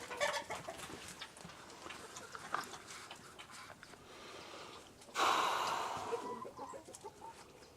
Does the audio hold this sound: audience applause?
no